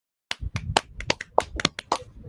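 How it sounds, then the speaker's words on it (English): A few hands clap close by in quick, uneven bursts after a moment of silence, a scattered, brief patter of claps. "clap your hands for Mod Mother Jenna"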